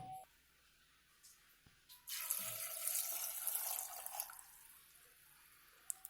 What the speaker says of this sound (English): and to boil them I am going to use 2 cups of water.